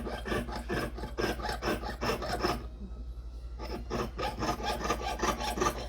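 Hand saw cutting through a piece of silver for a ring, a steady rapid rasping stroke rhythm, close and fairly loud, pausing briefly midway before the strokes resume.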